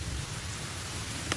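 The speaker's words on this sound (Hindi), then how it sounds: "यहाँ पर बारिश हो रही है" Steady rain falls, a soft even hiss that runs alone throughout, with one brief sharper drip or tap near the end.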